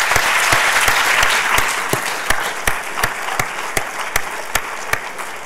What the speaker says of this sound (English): Let's give everyone another round of applause.